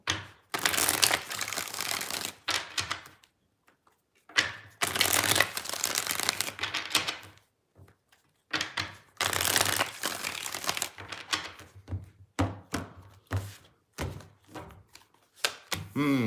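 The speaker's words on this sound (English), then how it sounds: "So, 3 more shuffles here." Tarot cards are shuffled by hand in several bursts of crisp riffling and slapping, close and fairly loud, separated by short quiet pauses and a few soft taps as the deck is squared.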